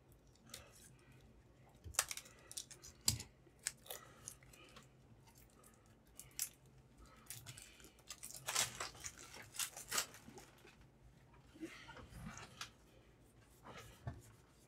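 Packs of cards for the Talisman Batman Super-Villains Edition board game being opened, with irregular close crinkling, tearing and rustling of wrappers and card stock in bursts over about fifteen seconds.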